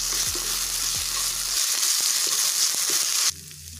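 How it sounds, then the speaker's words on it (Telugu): Ginger garlic paste frying in a hot pan, a loud continuous sizzle with a few low knocks and stirring scrapes, cutting to a quieter sizzle at the very end. "వేసుకొని బాగా ఫ్రై చేసుకోవాలి"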